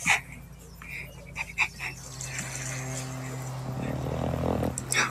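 A dog panting and whimpering nearby with a few sharp yips early on, then breathy panting that grows louder toward the end, while people talk in the background.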